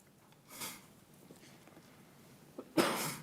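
Two short bursty sneezes in a quiet city council chamber during a meeting, a softer one early and a louder, fuller one near the end.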